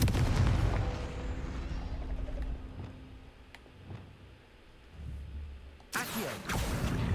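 A fire spell in a fantasy video game goes off as a series of booming, cracking bursts. A big blast lands near the end of the clip, over a low rumbling game backdrop.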